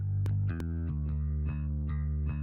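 A guitar plays chords through a distortion pedal set to a low mix, light and crunchy, strummed hits ringing out with a slightly gritty edge and no one talking.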